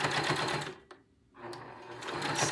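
A sewing machine stitching fabric in fast, whirring bursts, close and clear, with a short stop in the middle before it starts running again.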